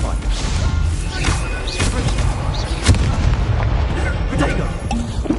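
Stupefy spell cast in Hogwarts Legacy on PS5 during combat, a run of sharp crackling blasts and heavy thuds in quick succession, loud and close over busy game noise.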